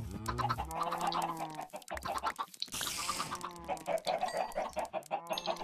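Chickens in the Minecraft video game cluck in a busy, overlapping flock, close and steady throughout, with brief squawks and no talk.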